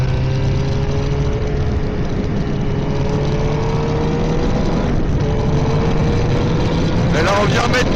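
Race-track motorcycle engine holding a steady loud drone with rising pitch sweeps as the rider feeds throttle, a burst of harsher revving near the end, with a voice coaching over it.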